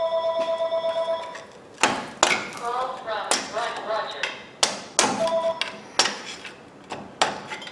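A pry driver strikes a Ford F-250 ball joint in a series of sharp metallic taps and ringing clanks, about a dozen hits at an irregular pace, close and loud after an opening stretch of steady tonal ringing.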